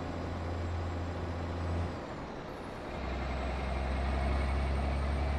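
Mack R truck in American Truck Simulator with a stock engine, a loud steady diesel drone that drops briefly near the two-second mark with a hiss like an air brake, then returns with a deeper idle rumble, no talk.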